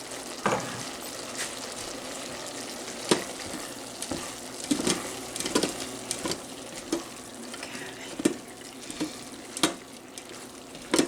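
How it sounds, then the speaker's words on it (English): Ground beef sautés in a pan for keto taco soup, with a steady low sizzle broken by repeated scraping and stirring knocks from a utensil, close up and with no talking. "we're going to finish sauteing our beef"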